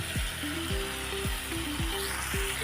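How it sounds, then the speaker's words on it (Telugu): Chicken sizzling in oil in a pan as a fry curry finishes cooking, a steady close crackling sizzle with repeated scrapes of a spoon stirring through, no voices. "చూడండి చికెన్ బాగా ఫ్రై అయింది, ఆయిల్ కూడా సపరేట్ అయిపోయింది"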